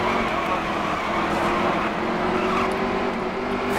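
Race car engine roaring steadily at high revs on the Bristol night race track in NASCAR Heat 3, loud and continuous with other cars' engines blending in, no talk over it.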